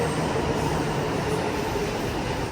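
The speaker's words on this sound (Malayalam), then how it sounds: "വേറൊരു റൂട്ട്, അതായത് റാപ്പിഡ് മെട്രോ വന്നിരിക്കുകയാണ്." A Rapid Metro train arriving at a station in Gurugram gives a loud, steady rumble of wheels and carriages that holds evenly throughout, with no voices.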